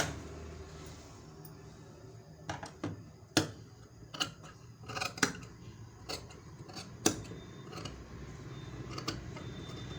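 Scissors snip through blouse fabric in a series of sharp, close clicks, irregularly spaced and fairly quiet against a soft background hum, with no talking.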